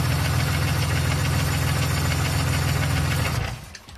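A Chevy Malibu engine idles loudly and steadily with a rough, knocking throb, then cuts out and dies after its rear crankshaft sensor plug is pulled, the rumble collapsing into near silence at the end.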